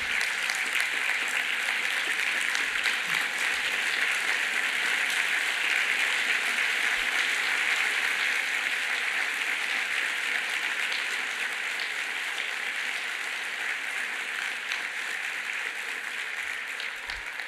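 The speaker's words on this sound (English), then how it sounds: "I'll accept those applause on behalf of all of our executive directors" A large audience at an anniversary luncheon gives sustained applause, a dense even roar of many hands that continues for a long stretch and eases off slightly toward the end.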